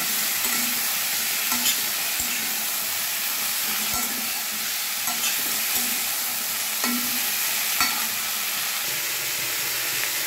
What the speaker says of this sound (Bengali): বরবটিগুলো আমি একটু ফুলকপি আলুর সঙ্গে ভেজে নেব।